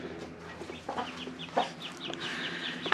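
A hen sitting on eggs in a farmyard clucks in soft, repeated calls, close by and fairly steady, with other faint bird and farm sounds behind and no talking.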